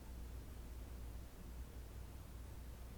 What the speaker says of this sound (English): Air conditioners in the apartments outside.